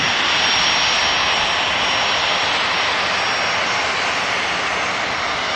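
Aircraft engines taxiing at Manchester Airport: a loud, continuous broadband jet roar with a steady whine, holding evenly throughout with no break.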